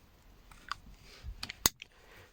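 A single sharp plastic click snaps near the middle as a connector seats during a steering clock spring replacement on a 2015 Kia Ceed SW, preceded by a few softer taps and rustles, close up and quiet.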